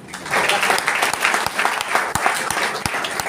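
An audience at a motivational seminar bursts into loud, dense applause, many hands clapping steadily with a few sharper individual claps standing out.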